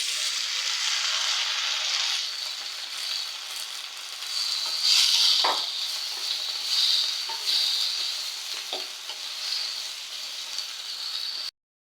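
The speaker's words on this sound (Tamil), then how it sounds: "நல்லா வந்து பெரிய வெங்காயம் ப்ரௌனிஷாக வதங்கிடுச்சு. அதுக்கப்புறம் தக்காளி இதில் ஆட் பண்ணிக்கலாம்." Onions and tomatoes for egg curry fry in a pan with a steady bright sizzle, broken by a few scraping stirs, close and continuous with no one talking.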